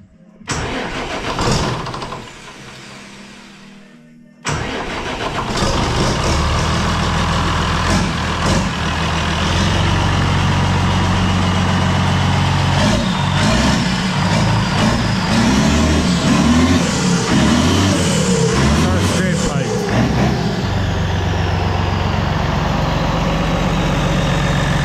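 A tractor engine cranks briefly, falls quiet, then catches and runs at a steady, loud idle close by, with a dense low rumble and mechanical clatter that continue to the end.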